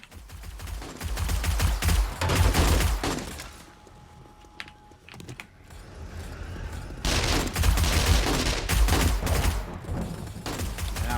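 An automated turret blasting away in the survival game 7 Days to Die, heavy rapid bursts of gunfire in two long loud stretches separated by a quieter lull with scattered impacts.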